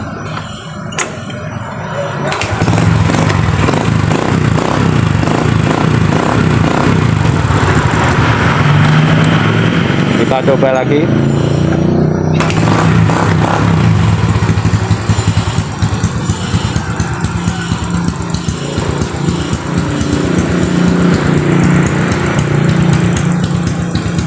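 A Honda Grand motorcycle engine sputters to life after a brief attempt, then runs with a steady, loud putter while someone talks briefly over it.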